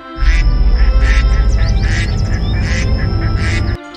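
A flock of cartoon ducks quacks loudly and repeatedly in quick bursts as they fly off, over a steady background tone that cuts off abruptly near the end.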